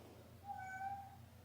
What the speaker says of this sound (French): Ça me fait tellement de la peine d'entendre miauler de même parce qu'il miaule pas beaucoup, Gérald.